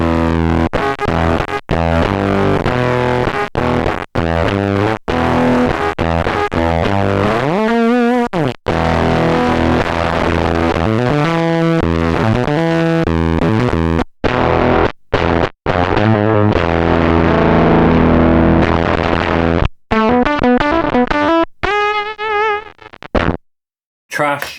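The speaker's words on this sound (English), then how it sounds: "Let's go for distortion. We like a bit of distortion." Heavily distorted electric guitar chords and riffs, run through an Amiga 500 computer as a guitar pedal, play loud and continuous, with a few brief pauses between phrases.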